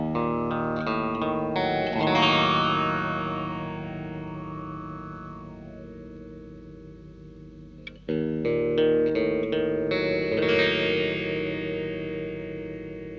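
An electric guitar played through an EQD Interstellar Orbiter effects pedal rings out in sustained chords with sweeping, filtered resonant swells, a fresh attack near the middle, then long fading tails; no talking.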